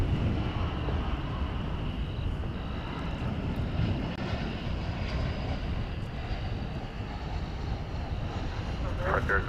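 An eight-year-old Airbus A320neo airliner at DFW Airport gives a steady, broadband engine roar, distant but continuous, under light wind noise, with a person talking over it.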